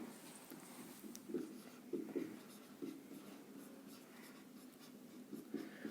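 Chalk or marker writes a geometry construction step on a board during a class 10 maths lesson, with soft scratchy strokes in short bursts and small taps, fairly quiet and alone.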